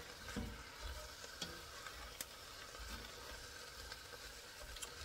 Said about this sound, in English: we want to let this cook until the ground beef is no longer pink and the onion is a little tender